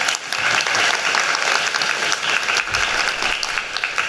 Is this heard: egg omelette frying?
no